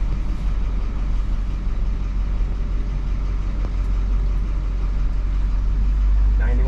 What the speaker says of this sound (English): And a really good engine. Duramax engine, Allison transmission.